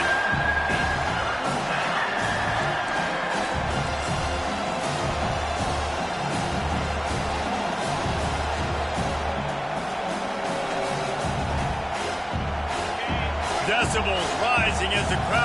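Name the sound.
football crowd cheering for the defense on third down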